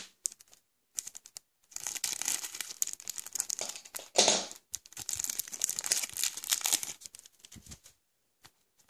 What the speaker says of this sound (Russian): Открываем карточки